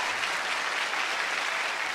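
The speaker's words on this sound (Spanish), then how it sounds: "Un aplauso para esta mujer." Studio audience on a Colombian talk show applauding a woman, a loud, full, continuous burst of clapping that stays steady from start to finish with no talk over it.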